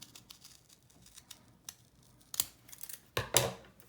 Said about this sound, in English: I'm gonna cut right here on these lines